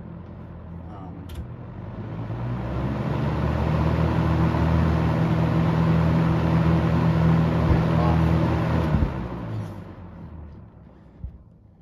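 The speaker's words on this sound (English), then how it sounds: "this fan on high is really loud and it's like a really deep pitch" An electric fan running on its high setting fills the space with a loud, steady, deep-pitched roar and whir that holds for several seconds before starting to wind down.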